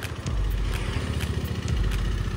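A motorcycle engine idles and revs low while the bike is stuck in a pothole on a road near Rishikesh, a steady close rumble with a faint rhythmic clatter and no talk.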